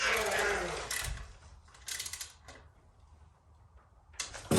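A torque wrench tightens the bolts on a Screaming Eagle air cleaner, giving a few short bursts of mechanical ratcheting and clicking separated by quiet pauses, close and fairly loud.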